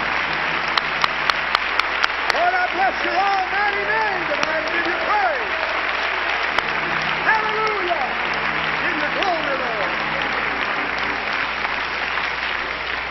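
A church congregation at a 2006 service claps and applauds steadily for several seconds, a dense sustained patter of many hands with a few sharp individual claps near the start and faint voices mixed in.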